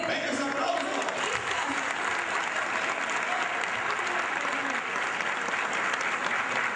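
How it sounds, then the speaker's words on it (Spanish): Sustained, dense applause from a large crowd, steady and loud throughout with no break. "¡Venga, ese aplauso!"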